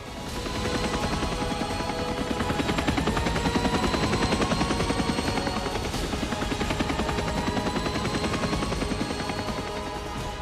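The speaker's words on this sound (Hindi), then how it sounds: "समुद्र की सतह पर जो स्पेशल फोर्सेस के कमांडो हैं वो उतर रहे हैं सी किंग हेलीकॉप्टर्स के साथ।" Navy Sea King helicopters carrying special forces commandos down to the sea surface during a naval exercise off Visakhapatnam. Loud, steady rotor thumping and engine whine run unbroken for the whole stretch, with no voices.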